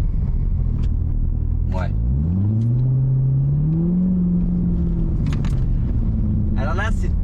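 A Corvette C7 ZR1 revs hard in third gear with wheels spinning, a loud rumbling engine note climbing and holding before easing off. Brief spoken remarks come and go over the roar.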